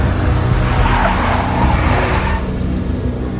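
Tires of a big black Mercedes skid loudly in the video game Max Payne, a continuous screech over a roaring engine for a few seconds, with no talking.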